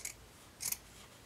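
Scissors cutting felt for a clay pot snowman craft: two short, crisp snips about half a second apart, quiet and close with no voice.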